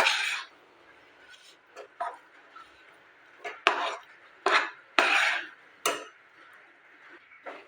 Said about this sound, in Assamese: এয়া মই ষ্টীলৰ থাল এখনত চুজিৰ মিশ্ৰণখিনি নমাই দিলোঁ